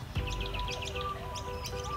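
Rapid high chirps and tweets from a bird, repeated in quick bursts over a steady low background rumble.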